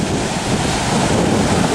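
Ocean waves surge and wash in a dense, loud roar mixed with wind buffeting the microphone, continuous for the whole short stretch.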